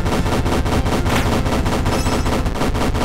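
Jackal Bomb attack in the video game FNaF World, a rapid burst of loud rattling blasts in a steady fast rhythm, close and dense, with no voices over it.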